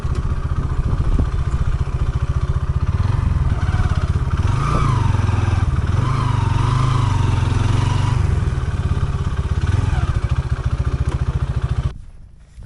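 A motorcycle being parked, its engine running loud and close with a steady throb before cutting off abruptly near the end.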